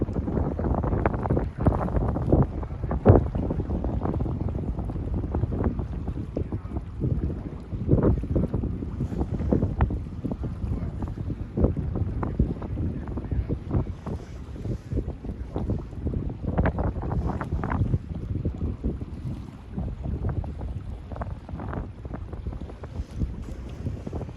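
Wind gusts roar across the microphone on the Brooklyn Bridge in New York, a continuous broadband rushing with uneven swells and buffeting bursts, loud and close, with no voices.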